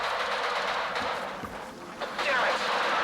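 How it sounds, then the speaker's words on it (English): Distant gunfire and explosive bursts rumble across a wide battlefield in S.T.A.L.K.E.R. 2: Heart of Chornobyl, muffled and far off, with voices talking over the noise. "Is that gunfire over there?"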